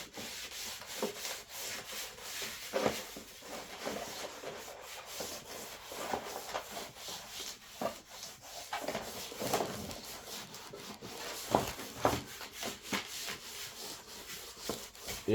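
Hands rubbing the front of a PVC board while framing PVC trunking pipe, a steady scratchy friction with repeated strokes and short louder swipes, close and continuous with no talk.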